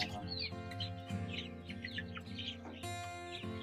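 Kairali breed chickens cluck in short, scattered calls over a steady humming drone at a hatchery, with a few higher chirps mixed in.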